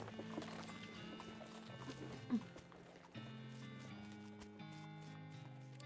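A horse in the West of Loathing video game clip-clops along in a faint, steady hoof rhythm beneath looping game music, with a brief whinny-like blip partway through.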